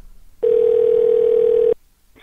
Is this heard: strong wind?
no